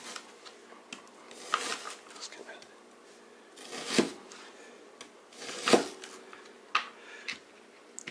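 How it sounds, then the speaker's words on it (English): A knife slices red onion on a cutting board, giving a handful of soft, irregular chopping taps spread across the stretch while a person talks quietly over them. "I'm going to cut up a little bit of red onion here"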